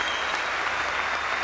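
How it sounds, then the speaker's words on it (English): Steady, dense applause from the crowd at a women's professional squash semifinal in the PSA Dubai World Series Finals, continuous and loud throughout without a break. "the crowd were clapping"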